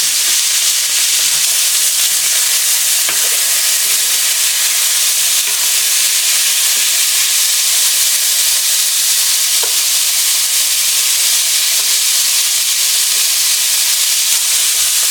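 Steak pieces searing in a hot pan, left undisturbed: a steady, close, even sizzle and hiss of frying meat that continues without a break, with occasional faint clicks and no talking.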